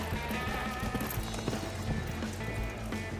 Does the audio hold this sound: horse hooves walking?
yes